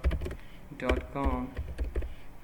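Someone types a web address on a computer keyboard, a steady run of light key clicks mixed with a person talking over it.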